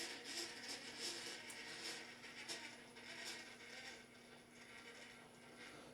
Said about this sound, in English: my only problem with this build is those transmission gears being so incredibly loud